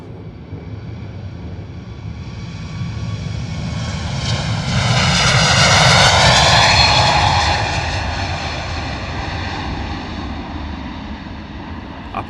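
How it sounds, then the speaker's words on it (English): A Wizz Air Airbus A321neo roars past on its takeoff run at misty London Luton Airport, the loud jet engine whine swelling to a peak near the middle and then slowly fading into the distance, with no one speaking. "A321neo on the move out the door off to Budapest. Wizz Air, here we go."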